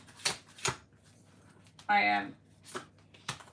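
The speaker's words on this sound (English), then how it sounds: "Are you gonna shuffle those cards forever?" Tarot cards are shuffled in a handful of short, dry riffling bursts with pauses between them, close and fairly quiet, while a person speaks briefly.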